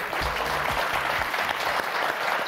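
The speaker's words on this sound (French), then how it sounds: "quelques applaudissements pour encourager Catherine et Myriam qui jouent pour l'association Coup de Pouce" Studio audience applause on the French game show Motus, a steady, fairly loud wash of clapping lasting a few seconds, with a faint voice underneath.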